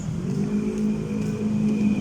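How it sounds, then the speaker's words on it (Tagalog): Cars on a roadside in Morong, Rizal, heard close by as a loud, steady engine drone with a rising hum, vehicles moving past continuously. "Ayan yung mga sasakyan."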